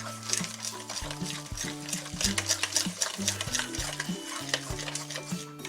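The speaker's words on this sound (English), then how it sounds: "So now we'll stir in the 2 eggs, cream that in well together." A spoon stirs two eggs into banana bread batter in a bowl, giving a steady rhythm of scraping, clinking strokes against the bowl's sides with no talking.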